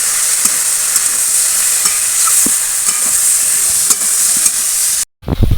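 Spices sautéing with vegetables for a spicy hilsa-head chachchari, a loud, steady hiss of frying with occasional stirring taps, close up, cut briefly near the end.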